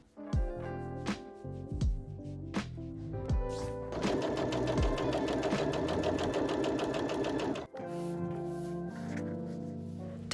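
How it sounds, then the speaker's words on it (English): A sewing machine stitches the pocket sides of a maxi skirt in short bursts of rapid needle chatter, then one long continuous run of stitching, close and clear with no talking. "I find it easier to sew the sides of the pockets first, then the bottom last"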